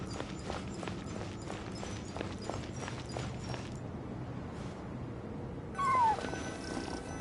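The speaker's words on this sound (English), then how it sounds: "I followed the cat's cries to find my way out" Cat crying in Genshin Impact, a short wavering mew near the end rising above a busy game soundscape of footsteps and ambient clatter.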